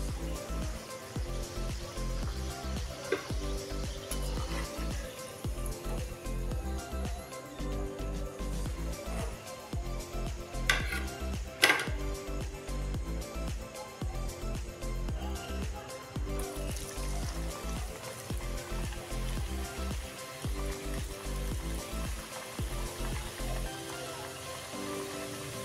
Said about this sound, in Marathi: बघा अशा प्रकारे आपण सर्व मोमोज तळून घेऊ.